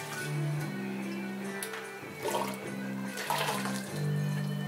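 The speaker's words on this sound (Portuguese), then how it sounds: "transferir toda essa água aquecida a 80 graus para a panela de mostura" Water heated to 80 degrees is poured into a mash pot for home-brewing an imperial stout, giving a steady gurgling splash with a few brief breaks in the flow.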